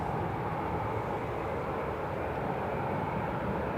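Steady broadband roar of jet airliners taxiing at Manchester Airport, a continuous even engine rumble at moderate distance with no talk over it.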